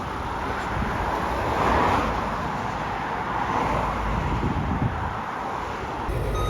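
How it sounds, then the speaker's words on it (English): Farm tractors towing grain trailers during a spring barley harvest rumble along a road, a steady moderate engine and tyre drone mixed with wind buffeting on the microphone. "We're coming along here with the tractors and trailers as well."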